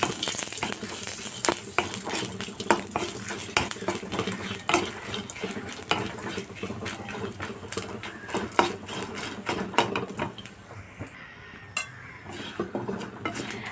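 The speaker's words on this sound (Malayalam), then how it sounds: "ഇനി മുളകൊന്ന് വറുത്തെടുക്കാം" Dried chillies fry in coconut oil while a spoon keeps stirring them, a steady close sizzle under repeated scraping and clinking against the pan throughout.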